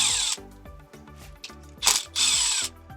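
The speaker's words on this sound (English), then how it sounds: "And we'll grab a 8mm socket into a cordless drill." A cordless drill fitted with an 8mm socket works on steering wheel fasteners of a 100/105 Series LandCruiser, giving several short whirring bursts with ratcheting clicks in between, close and fairly loud.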